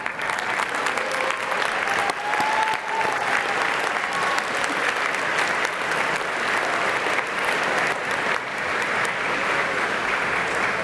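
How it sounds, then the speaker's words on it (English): Sustained applause from a large crowd at a university commencement ceremony, a steady wash of many hands clapping that keeps going without a break. "give your loved ones a round of applause"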